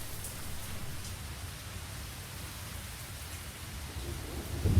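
Steady rain pours down with low rumbling thunder beneath it, swelling into a louder roll of thunder near the end, in the video game Lost Horizon.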